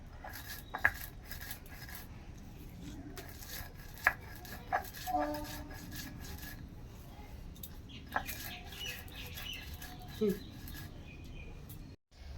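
Whole spices ground by hand on a freshly washed stone slab with a stone roller, making a steady, close scraping rasp with a few sharp clicks, while birds chirp faintly in the background.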